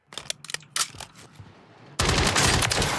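The Schlesinger 3.4 fires in a video game: a few sharp separate shots, then a dense continuous burst of automatic fire, loud and close, with no talk.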